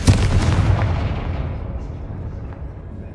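A Confringo fire spell explodes in Hogwarts Legacy, a loud booming blast with a deep rumbling low end that decays steadily over a few seconds.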